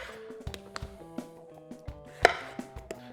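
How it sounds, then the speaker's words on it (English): Knife cutting blood oranges on a board for a cocktail: a quiet series of crisp, evenly spaced chops and taps, one sharper knock near the end, close and alone. "cut away and juice away everything you need"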